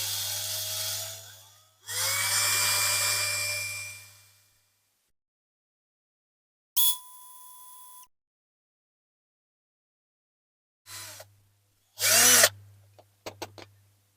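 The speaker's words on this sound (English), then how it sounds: "So let's get a 2mm drill on there and see what we can do." A small 2mm power drill bores out rivets on a Dinky Toys 156 Rover 75 diecast model in several whirring bursts of varying length, with pauses between, close up and with no talk.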